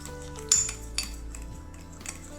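A metal spoon clinks and scrapes against a bowl as egg yolks are stirred with sugar, a few sharp taps over soft continuous mixing, close by.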